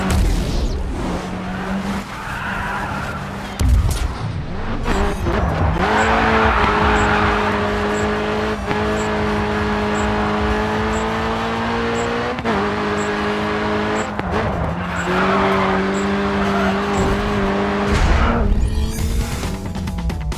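Race cars in the video game Grid 2 roar and skid, engines holding steady tones that rise and fall through gear changes, with repeated tire squeals and sliding noise close up throughout.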